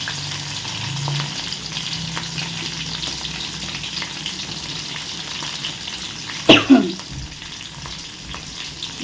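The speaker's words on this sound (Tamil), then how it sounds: "வெங்காயம் நல்லா வதங்கட்டும்" Chopped onions, green chilies and curry leaves fry in hot oil with a steady close crackling sizzle, interrupted by one or two sharp loud knocks of a spoon against the pan near the end.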